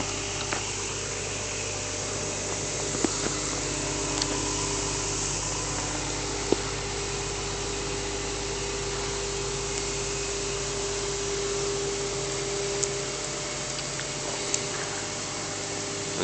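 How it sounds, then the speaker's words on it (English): Water sprays steadily from a burst water main struck by construction workers, a constant broadband hiss with a low rumble beneath, heard from a distance and unbroken throughout. "They hit a water main."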